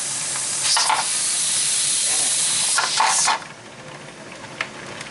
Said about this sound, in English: Alright, I would say that that's steaming pretty good.